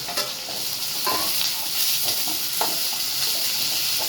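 Onion and tomato sauté for rava upma in a hot pan, a loud close sizzle with steady stirring and scraping of the spoon across the pan.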